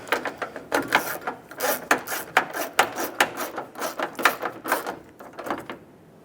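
Rapid ratcheting clicks from a tool tightening the exterior door handle bolts, which thread into plastic, on a 2003-2021 Chevy Express 3500 van; a quick irregular stream of close, sharp clicks that stops near the end.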